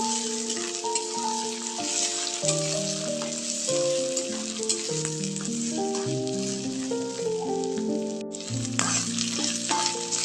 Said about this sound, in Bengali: এবার আমি খুব সুন্দর করে মশলাগুলো একসাথে মিশিয়ে কিছুক্ষণ সময় নিয়ে কষিয়ে নেবো